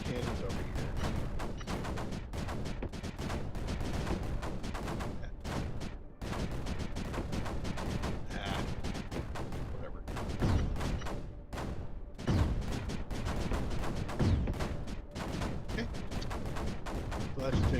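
Cannons fire in the video game Creeper World 4 as a dense, continuous barrage of rapid shots and thuds with occasional heavier booms, mixed with game noise throughout.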